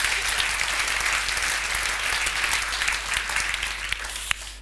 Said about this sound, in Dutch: Graag een applaus voor onze eigen UT-droomreiziger.